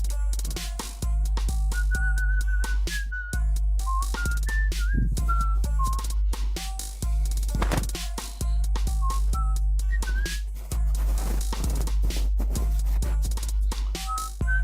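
A person whistles a wandering tune close up, with short pauses between phrases and some breathy noise.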